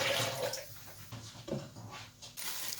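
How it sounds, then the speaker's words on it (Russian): Hot water from a freshly boiled kettle is poured out of a deep ceramic bowl, a splashing, gurgling pour running steadily for a few seconds at close range, with no talking. "Потом сливаю воду."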